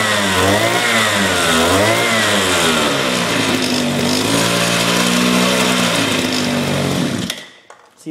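A Honda Spree scooter's small engine runs close by, revving up and down in repeated swells before settling to a steadier high buzz, then cutting off abruptly near the end.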